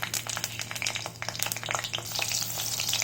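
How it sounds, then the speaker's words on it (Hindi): Green and red chilies fry in hot oil, a close, continuous crackling sizzle with popping spatters and faint stirring, steady throughout. "अब इस ऑयल में हम ग्रीन चिली और रेड चिली को डालेंगे"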